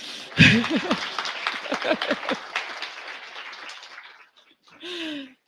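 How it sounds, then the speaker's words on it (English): Audience applause in a business forum hall after a presentation ends, a burst of clapping that tapers off over a few seconds, with voices talking over it and a short spoken phrase at the end. "you can applaud"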